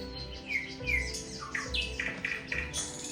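A nightingale sings outdoors, faint and somewhat distant, with clear whistled phrases and rapid repeated chirps in varied rising and falling notes over low background rumble.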